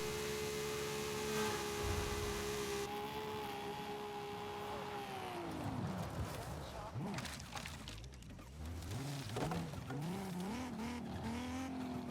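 Audi car accelerating on a highway in Forza Horizon 5, its engine note climbing steadily through the gears with a rising whine, then rougher revving and tire noise. Loud and continuous, with a voice speaking over it.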